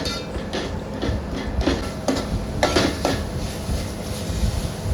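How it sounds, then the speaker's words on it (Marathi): Crab curry masala for Koli-style chimbori kalvan is stirred in a pan, with intermittent metallic clinks and scrapes of a utensil against the pan over a low background hum. "आणि तर हे सगळं मिश्रण आपण चांगलं परतून घेऊया."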